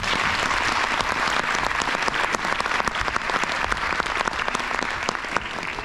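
A crowd at a public event gives sustained, loud applause for Mayor Bünyamin Çiftçi, many hands clapping steadily without a break.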